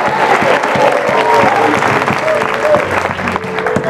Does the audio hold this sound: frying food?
no